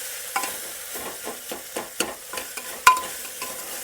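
Garlic chili paste is stirred into hot oil in a pan, a soft steady sizzle under repeated close spoon scrapes about twice a second, one louder clink near the end, no talking.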